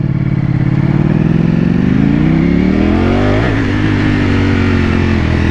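A Ducati V4S motorcycle engine roars loud and close while riding, its pitch climbing steadily as it accelerates, then dipping briefly before holding a steady high drone.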